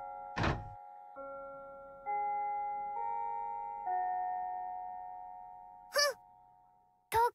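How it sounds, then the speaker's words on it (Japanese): A school chime in the video game Date A Live Rio Reincarnation plays a slow sequence of clear, sustained bell tones, one after another. Short sharp thuds come before and after the chime in an otherwise quiet scene. "チャイムも鳴ったし、着席しないとダメ。"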